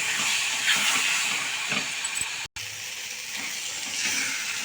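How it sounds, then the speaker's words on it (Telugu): Masala gravy for a knol khol curry fries in oil over a low flame, giving a dense, steady sizzling hiss that carries on nearly unbroken except for one brief cut, close and loud, with no voices. "లో ఫ్లేమ్లో పెట్టి అలా ఫ్రై చేయడమే"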